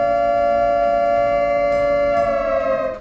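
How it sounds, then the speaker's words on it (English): A mysterious siren-like wail in the night sky, resembling a mechanical siren: one loud, steady, harmonic-rich tone holding level for about three seconds, then wavering slightly and fading at the end. "it sounds remarkably similar to a mechanical siren"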